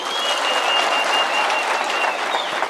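A crowd at a political rally in Kakamega breaks into loud, sustained applause, a dense wash of clapping with faint whistling mixed in throughout.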